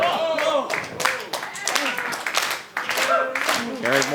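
A wrestling match crowd claps and cheers in scattered bursts, with a commentator talking over the arena noise throughout.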